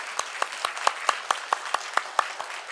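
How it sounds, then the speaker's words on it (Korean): A church congregation claps together in a steady unison beat during a service, with about a dozen crisp, evenly spaced claps in quick succession, moderately loud, with no talk. "크게 하나님 앞에 영광의 박수를 돌리겠습니다."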